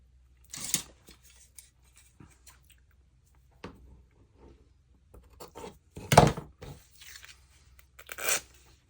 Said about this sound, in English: I think we can trim off this edge here